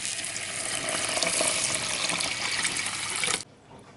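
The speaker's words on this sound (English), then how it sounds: "Hot water." Hot water pours steadily from a kettle for a few seconds, a smooth hissing splash that stops abruptly near the end, with no talking.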